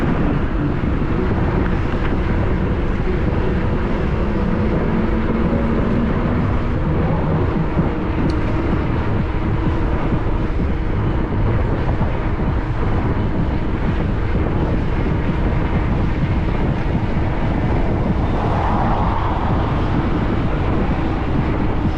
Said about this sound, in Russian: встречный ветер.